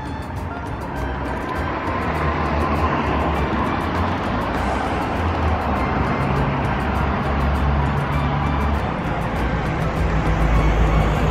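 Continuous street traffic rumbles steadily at night on a city corner, a car passing close by with a loud, broad engine and road noise that swells slightly toward the end.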